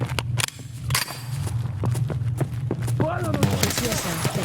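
Rapid burst of gunfire from a magazine being emptied in Escape from Tarkov, sharp cracks in quick succession over several seconds, close and loud, with someone talking over the shots.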